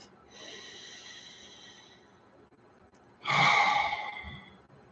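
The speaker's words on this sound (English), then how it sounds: "Nice deep breath" A person takes a slow, deep breath, a soft airy inhale followed by a louder, fuller exhale close to the mic, in an otherwise quiet room.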